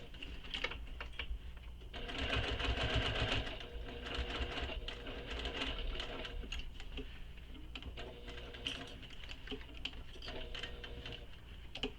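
A sewing machine stitches a Pawling handbag around curves, running in bursts of rapid mechanical whirring and clatter with brief pauses and clicks as the presser foot is lifted and the fabric turned.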